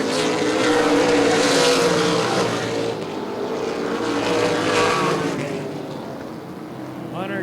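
Stock race cars roar around a short oval during an ARCA/CRA Super Series race, their engines rising and fading as they pass nearby, with a commentator talking over them.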